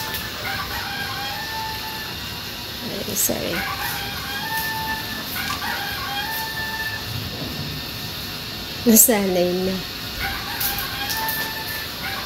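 A squeaky rooster dog toy crowing while a German Shepherd plays with it, thin repeated cock-a-doodle-doo squeals at intervals, with one louder burst near the end and a person briefly talking.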